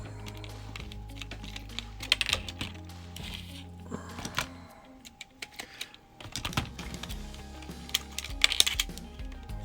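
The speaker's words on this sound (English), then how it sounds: "You don't necessarily have to just kind of get right in front of my face when I'm unscrewing the chassis" Small chassis screws being undone on a Morgan Aero 8 slot car, a mix of close clicking, ratcheting and light tapping from the tiny screwdriver and plastic parts, with no talk.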